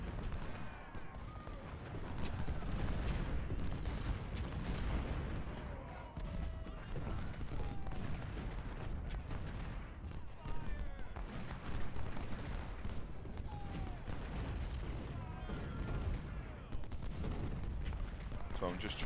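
Cannon fire in Ultimate General Civil War at the Battle of Fredericksburg: dense, continuous booming artillery volleys and crackling gunfire rolling on without pause, loud and layered throughout.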